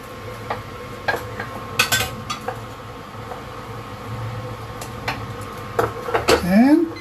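Aviyal, a mixed vegetable dish, stirred in a pot after pressure cooking, with scattered clinks and scrapes of a spoon against metal over a steady background hum and a rising whine near the end.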